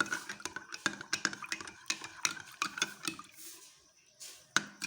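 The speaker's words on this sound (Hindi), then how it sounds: "इसको मिक्स कर लेंगे।" A spoon stirs tamarind chutney into cold water in a jug for golgappa pani, producing rapid irregular clinks and scrapes against the container, close and crisp, with no talking.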